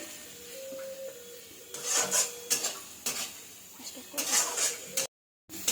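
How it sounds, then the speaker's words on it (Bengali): A spoon stirring chili powder into frying masala in a pan for mutton kosha, heard as rhythmic scraping and rasping strokes with a faint sizzle underneath. "এবার এটাকেও ভালো করে মশলার সঙ্গে মিশিয়ে নিতে হবে।"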